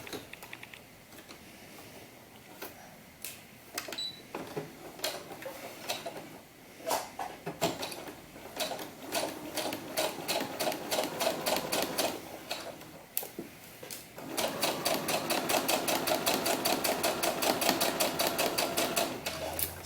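A sewing machine stitches the back of a doll mannequin in bursts, its rapid needle clatter starting and stopping, then running in a long, steady, close run near the end.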